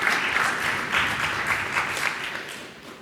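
A conference audience at PyCon UK lightning talks gives steady, moderately loud applause that fades slightly toward the end, with no talking over it.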